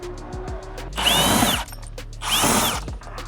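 A power drill spins out 7 mm screws holding a rear crash bar on a Nissan 350Z. Two separate whirring bursts, each about half a second long, run loud and close with short pauses between them, and nobody speaks.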